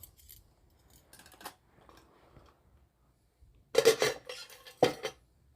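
A stainless steel canteen stove being fitted and handled: a few faint rattles, then two sharp, close metallic clanks and clinks near the end.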